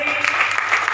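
Brief applause breaks out from an audience at an organisation's foundation day ceremony in Jaipur, a short patter of claps heard under a speaker's amplified voice.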